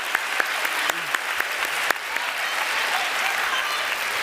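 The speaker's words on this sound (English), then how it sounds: "Let's have a loud round of applause." Debate hall audience at the Munk Debate on populism breaking into loud sustained applause, dense continuous clapping with a few sharp louder claps standing out early on.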